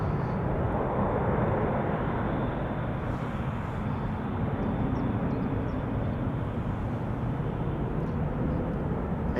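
Aircraft engines roar steadily at Schiphol Airport under a low cloud ceiling, a broad continuous rumble heard from a distance without talk.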